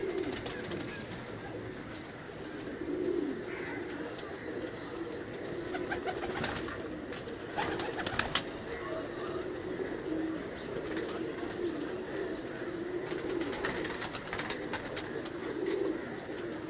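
Several pigeons on a Lahore rooftop coo softly and repeatedly in low, throaty murmurs, a steady flock sound with occasional rustles and flutters.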